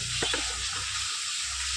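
Fish, a bhola fish, frying in oil in a pan, giving a steady close sizzle with a couple of brief clinks early on, no voices.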